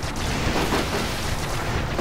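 An RPG rocket explosion in the first-person shooter Duke Nukem Forever, a dense, loud, rumbling blast that stays thick and noisy for about two seconds without any talking.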